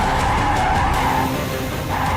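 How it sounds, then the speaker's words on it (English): A hypercar slides with its tires skidding and squealing loudly, a continuous harsh screech close up for about two seconds, easing slightly near the end with no one talking. "This car slides."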